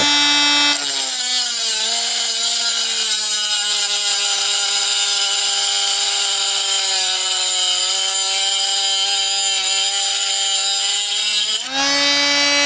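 HILDA mini angle grinder cutting a 3 mm steel plate, a loud close high-pitched whine that holds steady for about eleven seconds with a shifting grinding tone, then drops off.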